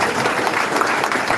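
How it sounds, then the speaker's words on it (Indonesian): An audience of students at a campus event claps together, a sustained patter of many hands that stays even and fairly loud for the whole moment, with no voices over it. "beri tepuk tangan buat semuanya."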